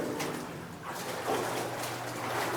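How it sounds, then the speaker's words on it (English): A waterfall inside a cave, part of an underground dam site, gives a steady, fairly faint rushing hiss that fills the whole stretch, slightly echoing, with no talk over it. "And you can hear the waterfalls in the background."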